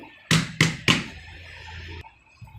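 An upturned sponge cake tin is tapped on a plate three times in quick succession. Each tap is a sharp, close, hollow knock, followed by faint handling noise.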